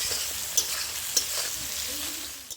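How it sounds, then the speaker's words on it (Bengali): Bitter gourd slices frying in a pan, a steady close hiss of sizzling oil with a few brief clinks of stirring, no voices. "করলাটা আমি অল্প বাদামি করে ভেজে নেব।"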